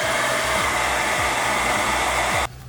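A hair dryer blows close and loud, drying freshly painted miniature diorama terrain, a steady whooshing roar for over two seconds before it abruptly switches off.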